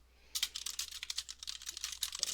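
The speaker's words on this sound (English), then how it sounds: "look at me typing so fast that you don't even understand what's happening" Fast typing on a computer keyboard, a rapid, close run of crisp key clicks that starts after a brief silence and continues without pause, with no talking.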